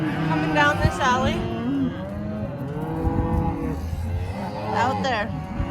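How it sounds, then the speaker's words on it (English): Cattle moo loudly and repeatedly, with several overlapping calls near and far, as cows are sorted out of a pen and moved down an alley on sale day, under steady background noise. "they're sorting cows out of that pen"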